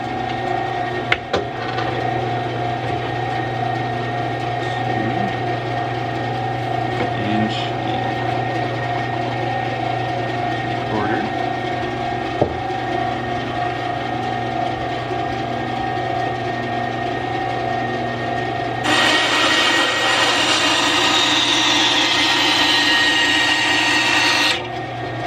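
A Wen 3.5 amp 10 inch band saw running steadily while making a box cut in wood, a constant close motor hum with a brighter cutting rasp rising in the last few seconds.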